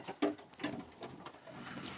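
Soft pigeon coos repeat a few times nearby, low throaty calls in a quiet space.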